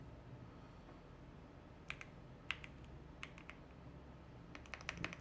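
An Authy code being typed on a computer keyboard gives faint, scattered key clicks in short bursts over a quiet room hum, with no talking.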